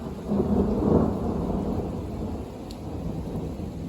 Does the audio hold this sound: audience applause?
no